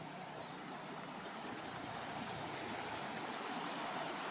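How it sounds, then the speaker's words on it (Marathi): A village river flows steadily nearby during rain in the Kokan region, a continuous broadband rush of water at even loudness throughout, with no voices. "नदीचा आवाज येतो आहे."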